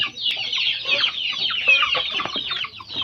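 Several young chickens about two months old cluck and peep close by, a busy overlapping chatter of short chirpy calls with no pauses.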